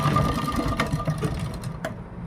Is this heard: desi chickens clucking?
no